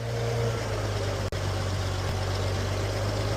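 A steady, low idle of an early Ford farm tractor engine rumbles throughout with a constant hum, broken only by a brief dropout near the middle.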